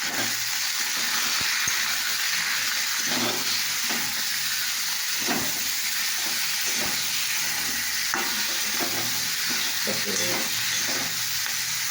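Food seasoned with salt and turmeric sizzles steadily in a hot pan while a spoon stirs it with repeated soft scrapes and knocks, close and continuous, with no talking.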